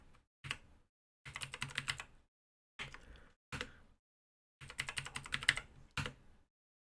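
Fingers type credentials on a computer keyboard during a first boot, in short bursts of quick, close key clicks separated by pauses, quiet and alone in the room.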